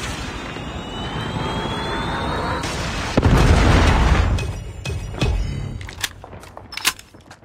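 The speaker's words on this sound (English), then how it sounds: "Predator missile inbound." A Predator missile explosion in Call of Duty erupts into a loud, broad boom over steady aircraft drone, then fades into scattered sharp cracks and pops of battle.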